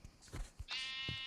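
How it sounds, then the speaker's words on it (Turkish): Sheep bleat in Minecraft, a short wavering nasal cry near the end after some soft thumps, close and clear, single call. "Orada da bir tane koyun var."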